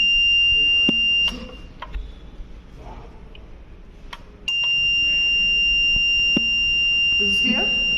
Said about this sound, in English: Okay, so the program is for the buzzer.